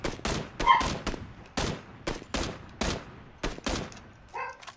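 Gunfire in the video game PUBG: a steady run of about eight loud, evenly spaced single shots, each a sharp crack with a short tail, heard without talk.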